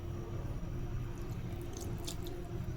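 Water poured into a bowl of flour mixed with a pinch of salt and a little oil for poori dough, a steady soft wash of pouring against a low background hum.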